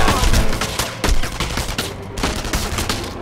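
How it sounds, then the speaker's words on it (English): Enemy gunfire in the shooter video game Enemy Front: loud, dense bursts of rapid shots that pour in continuously at close range, with no speech. "all three of them are shooting me"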